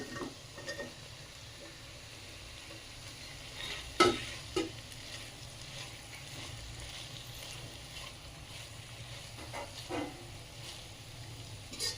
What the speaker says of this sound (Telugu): వీటిని బాగా మెత్తగా పేస్ట్ అయ్యే వరకు వేపుకోవాలండి